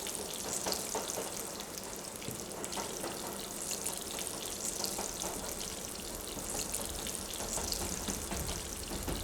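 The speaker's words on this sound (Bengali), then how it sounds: "আলুগুলোকে ভালো করে উল্টে পাল্টে ভেজে নেব" Potatoes frying over high heat in hot oil for a railway mutton curry, a steady broadband crackling sizzle that holds at an even, close level throughout with no talk.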